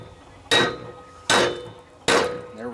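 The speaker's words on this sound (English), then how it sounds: "You like my hammer?" Three evenly spaced, sharp metallic hammer strikes ring out as a bearing is tapped onto the shaft of a Craftsman riding lawnmower's 42-inch cutting deck, each hit loud and close with a brief ringing decay.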